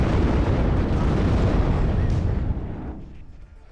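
Artillery fire in the video game WARNO makes a heavy rumbling explosion that fills the clip, loud and dense, then trails off into a fading roar over the last second.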